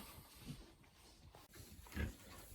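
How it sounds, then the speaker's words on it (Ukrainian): Low grunting and snuffling from piglets, a couple of louder grunts standing out over steady background noise, with no talking. "Це наші поросятка."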